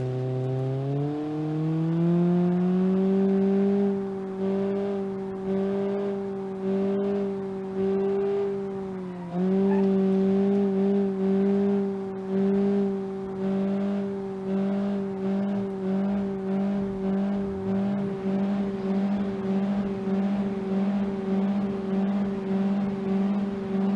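An old car that sat for years in a back lot, with a damaged head gasket and a transmission that won't shift, drones along in BeamNG.drive: a steady engine tone that climbs, dips briefly, then pulses in a rough rhythm, with no talk.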